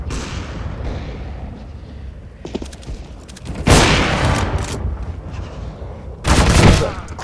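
Counter-Strike gunfire cracks out in bursts, with a few short shots early and then two loud, dense volleys of automatic fire, close and harsh over game background noise.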